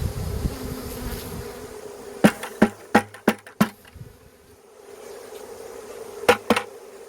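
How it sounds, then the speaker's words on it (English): A honeybee swarm signaling at the entrance of its new hive makes a steady, low, droning buzz, broken by a handful of sharp, loud clicks or knocks in a quick cluster and then a second pair. "They are signaling at the entrance of the hive"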